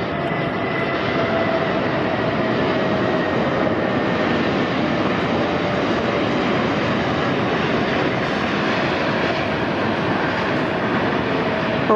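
Asiana Airlines flight 202, a heavy jet arriving from Seoul Incheon, landing on runway 24 left at LAX, a loud, steady, broad engine roar that holds throughout with no break.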